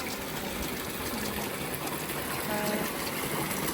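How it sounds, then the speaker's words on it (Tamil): Water gushing steadily into a tank, a loud continuous rushing and splashing that holds even throughout, with no talk over it. "ஃபுல்லாக விட்டுக்கிறது தொட்டி"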